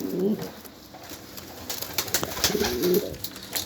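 Pigeons coo nearby in soft, throaty bursts, with a few quieter rustles and background sounds between the calls.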